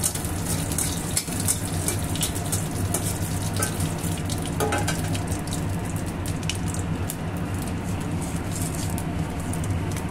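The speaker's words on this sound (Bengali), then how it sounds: "শুকনা মরিচ, ফোড়ন দিব। মরিচটা ভালো করে ভেজে নিব।" Dry red chilies fry in hot oil for a tempering, a steady soft sizzle with faint crackles and occasional stirring clinks, continuous and close with no talk.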